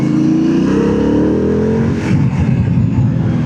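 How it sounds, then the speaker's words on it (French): An Aprilia Dorsoduro 900 motorcycle on a mountain road revs up loudly and close, its engine pitch climbing steadily before settling into a rough, throaty drone. "On profite du bruit du moteur."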